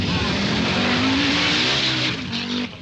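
Audi rally cars racing flat out on a slippery stage at the 1983 Rallye Sanremo, a loud continuous engine roar with rising revs, close by and steady, then easing slightly near the end.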